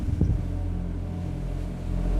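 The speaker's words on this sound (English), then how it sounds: "Can you hear the engines roar?" A low, steady rumble from the engines of a Joymarine 50 maxi RIB boat under throttle drones throughout, with some wind buffeting and a brief louder surge at the start.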